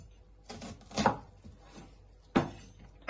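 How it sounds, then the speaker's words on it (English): A knife cuts onions down the middle on a kitchen board, giving a few sharp separate chopping knocks with quiet gaps between them, close and clear with no talking. "And then you just want to chop them down the middle."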